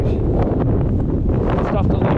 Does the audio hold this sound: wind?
yes